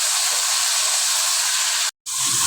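Ginger-garlic paste hitting hot fish-frying oil with onions, giving a steady, loud, close sizzling hiss that cuts out briefly near the end, then resumes.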